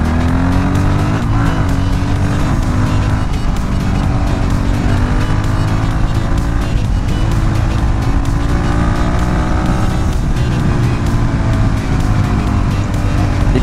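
A Monnier XRF 450 supermoto motorcycle engine revs loudly and continuously, pitch rising and falling through gear changes with a raw, popping single-cylinder note, close to the rider and without speech.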